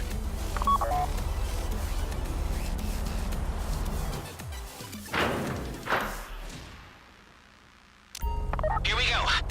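In GTA 5 Online, a phone dials with short tones, followed by thuds and a slam as a vault door triggers, with game noise and speech throughout and a quiet gap before the sound returns.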